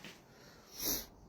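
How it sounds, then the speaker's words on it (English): A man breathes heavily inside a dusty duplex under restoration, giving a single slow, wheezy exhale that swells and fades close to the microphone, with a short sniff at the end. "my heavy breathing is not just because I'm chunky"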